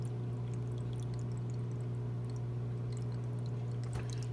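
Water runs faintly and continuously as a tank fills through a homemade automatic top-off system, over a steady low electrical hum. No one speaks.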